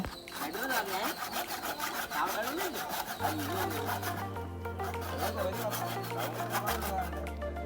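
A hand saw cuts through bamboo pieces for a large Vesak lantern in a rapid back-and-forth rasp, with some background noise and murmuring underneath.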